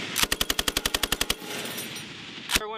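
A US Marine machine gun, an M2 Browning or M240, fires a fast, loud, evenly spaced burst of about a dozen rounds, then rumbling echo, a sharp clank and a ringing metallic tail.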